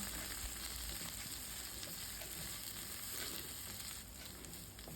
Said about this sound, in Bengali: বেগুনটাকে এক দেড় মিনিটের জন্য একটুখানি মিডিয়াম টু হাই ফ্লেমে ভেজে নেব